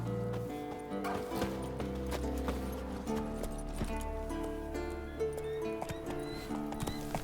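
Roach, the horse in The Witcher 3, gallops with a steady, rapid clip-clop of hooves that runs throughout. The hoofbeats sit over sustained tonal game background sound, and a brief whinny may come through.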